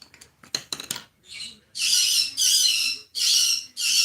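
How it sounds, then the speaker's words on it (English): Harsh, raspy bird squawks come in several long bursts, loud and close, after a few brief clattering knocks at the start. "And there come the birds with their opinions."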